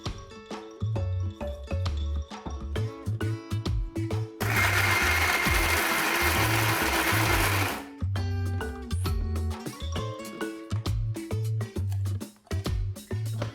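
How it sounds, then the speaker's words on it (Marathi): Kitchen mixer grinder whirring as it blends spiced mince with red chilli powder into a paste, one sustained loud run of a few seconds between shorter clattering, tonal machine sounds. "हे सगळं आपण व्यवस्थित मिक्स करून मिक्सरमधनं फिरवून एक छान पेस्ट"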